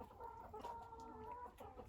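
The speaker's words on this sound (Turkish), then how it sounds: "Burada zannedersem iki horoz var bu kümeste." Hens cluck in a backyard coop shared by two roosters and about a dozen hens, including Ayam Cemani and Lohmann Sandy birds, giving soft, close, overlapping murmuring calls in a quiet, continuous stream with no talk.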